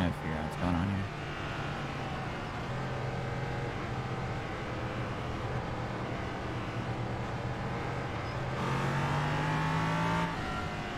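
A Ligier LMP3 race car engine in the iRacing sim at Road America, a steady buzzing drone with gear-change dips and a rising rev near the end, moderately loud throughout.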